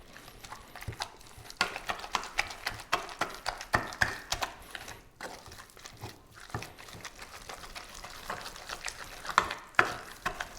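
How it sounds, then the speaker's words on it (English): Fish cake mixture with a cracked egg being mashed together in a bowl, making a rapid uneven series of wet squelching thuds and clicks that keep going throughout, close by and with no speech. "And now we can start mashing this all together."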